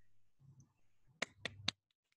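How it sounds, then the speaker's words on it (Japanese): One person claps alone at the end of an online talk, three sharp, separate claps in quick succession after a brief low murmur, then near silence. "一人 の拍手しか聞こえないのですけどね。"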